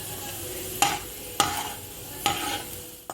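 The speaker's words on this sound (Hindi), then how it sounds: "प्याज को ऑयल में गोल्डन ब्राउन हो जाने तक फ्राई करेंगे" Onions frying in oil until golden brown give a steady soft sizzle, broken by three sharp stirring scrapes spaced about a second apart.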